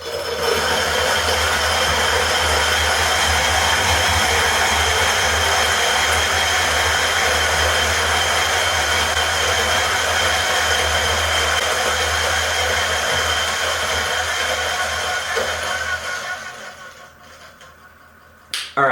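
A DF83V variable-speed coffee grinder running at 300 RPM grinds beans with a steady, dense whirring hiss and low motor hum, recorded close for about sixteen seconds before the sound winds down and stops.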